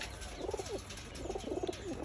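Soft, repeated cooing from young pigeons, a few low burbling calls in two bursts, fairly close with a faint hiss behind.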